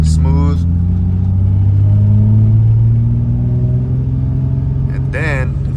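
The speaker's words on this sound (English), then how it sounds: "then you go with the clutch, gassing it, car's moving" A manual-transmission car pulls away from a standstill, its engine drone rising smoothly in pitch as it gains speed, loud and close, with someone talking briefly at the start and again near the end.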